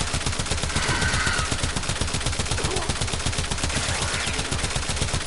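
Base Furis secondary pistol in Warframe firing full-auto against Steel Path Corporate Heavy Gunners, a loud, rapid and steady stream of shots with no pauses for over five seconds, with no talking.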